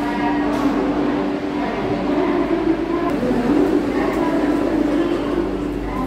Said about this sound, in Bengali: আর এটা হচ্ছে 22347 হাওড়া পাটনা বন্দে ভারত এক্সপ্রেস, যেটাতে করে আমরা যাব আমাদের গন্তব্য আসানসোলের দিকে।